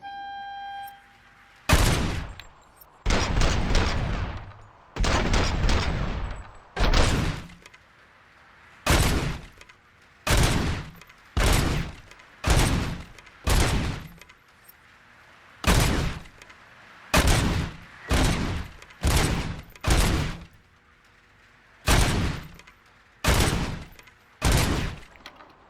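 Gunfire in the Robocop Rogue City shooter game: a long series of loud, separate heavy shots spaced about a second or two apart, each with a short crack and tail, steady rhythm over roughly twenty-five seconds, no talking.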